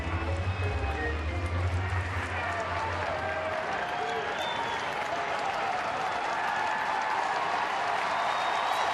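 Baseball stadium crowd in Detroit cheering as fans rise to their feet with two strikes in a late-inning at-bat, a loud, steady roar filling the whole stretch, with a low hum early on fading out.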